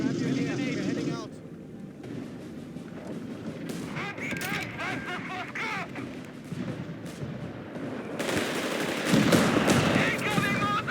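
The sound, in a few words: gunfire and mortar fire in the video game Company of Heroes 3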